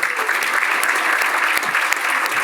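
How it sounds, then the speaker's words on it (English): Crowd applause at a rugby event in Chicago greeting former players, a loud, dense burst of many hands clapping close by, sustained through the whole moment without speech. "please give an equal level of applause"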